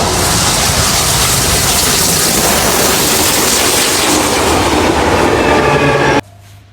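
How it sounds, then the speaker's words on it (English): A steam train passes close by on a railway, a loud, steady roar of rolling wagons and rhythmic wheel clatter that fills the whole stretch before cutting off abruptly near the end, with no talking. "Oh, it's got to be a steam train."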